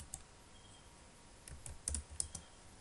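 Computer keyboard being typed on while writing PHP code, quiet scattered key clicks in short bursts, close and soft against a faint background hiss.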